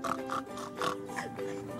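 A human voice mimics a pig, making several short nasal oinks and snorts in quick succession, fairly close.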